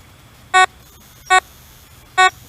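A metal detector sounds three short, loud electronic beeps at a steady pace as it sweeps over a buried target on a drained lakebed, with quiet gaps in between.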